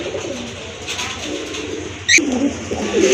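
A pair of large Lakkha fantail pigeons with feathered feet, from a pigeon collection for sale in Gazipur, coo steadily and nearby in low, repeated throaty rolls, with one brief sharp higher call partway through.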